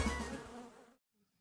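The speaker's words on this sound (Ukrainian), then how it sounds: "Бджоли в основному закінчили обліт." A close, dense buzzing of honey bees at an apiary in January for about a second, then cutting off into near silence.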